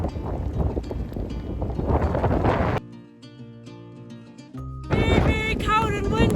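Cold, strong wind on a mountain trail roars and buffets the microphone in loud gusts. It eases briefly midway, then surges back.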